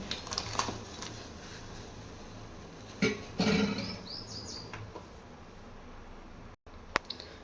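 Jaggery dropped into a pot of ragi java and stirred, giving a few soft clinks and scraping knocks against the pot over a steady background hiss, with one sharp tap near the end.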